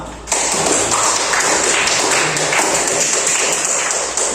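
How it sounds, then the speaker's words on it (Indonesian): Students break into sudden classroom applause, a close, dense patter of clapping that begins abruptly and carries on evenly. "Tepuk tangan buat kalian semua."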